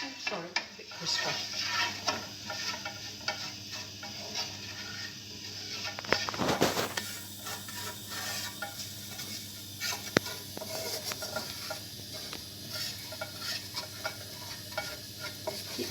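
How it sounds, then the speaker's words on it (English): Fresh breadcrumbs toast in butter in a pan while being stirred, giving a close, steady sizzle with scraping and a loud clatter of utensil against the pan partway through. "we just want them to be nice and crispy, so just stir them round so they absorb the butter"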